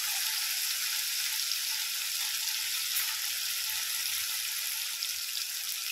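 Tomatoes added to a hot pan while cooking a Marathi ridge gourd bhaji, giving a steady bright hiss of frying and sizzling, close and continuous with no talk.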